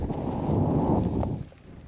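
Steady wind rushing and buffeting the microphone, a broad low roar that eases off near the end.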